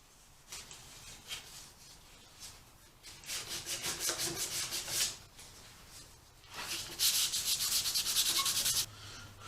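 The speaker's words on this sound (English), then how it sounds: "going to sand it down where the glue was." Hand sanding on a wooden rocking chair to strip leftover glue residue, a series of rhythmic, close back-and-forth rasping strokes in two main bursts with quieter gaps between.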